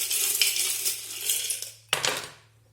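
Small metal divination charms clink and rattle as they are shaken in a hand, followed by a sharp jingling cast onto a surface that quickly fades.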